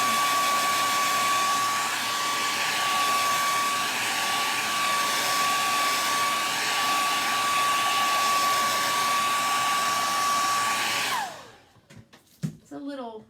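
A hair dryer blows steadily and loudly to dry paint on an upcycled Lazy Susan, a continuous close whoosh with a constant whine that switches off near the end, leaving brief rustling and a short voice.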